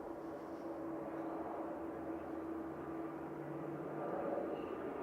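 A plane takes off at Manchester Airport, heard as a distant, steady engine roar with a low hum and a faint tonal whine, holding at an even level throughout.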